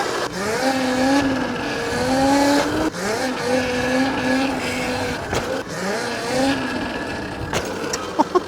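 An ETM RTR electric vehicle spins out on leaves at about 20 miles an hour, with a steady whirring motor, repeated rising and falling pitch sweeps and tire scrubbing heard close and continuous.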